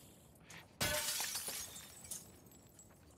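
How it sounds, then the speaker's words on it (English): Glass shattering as a thrown bottle breaks it in a video game, one sudden loud crash followed by a trailing scatter of falling shards and a smaller tinkle near the end. "I can break glass with bottles"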